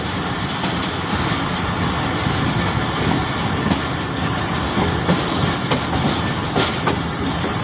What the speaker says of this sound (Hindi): खानेवाल जंक्शन पे अप्रोच बना रही है 35 अब सर सैयद एक्सप्रेस